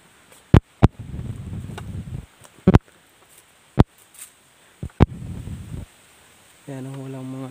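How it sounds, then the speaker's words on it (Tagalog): Strong wind on an open road buffets the microphone in rumbling gusts, broken by sharp knocks and thumps, with a brief tonal hum near the end. "Naririnig nyo yung hangin mga idol."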